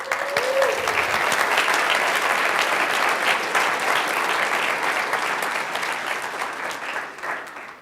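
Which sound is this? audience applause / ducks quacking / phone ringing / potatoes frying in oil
audience applause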